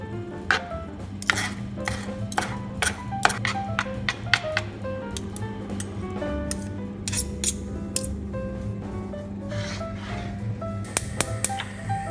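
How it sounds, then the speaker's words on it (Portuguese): A knife dices a shallot into tiny cubes on a cutting board, giving quick irregular taps and clicks, some in fast runs and others spaced apart, clear and close over a low steady hum. "vão cortando assim em tiras e depois cortem na paralela, perpendicular, para ficar os quadradinhos assim bem pequenos"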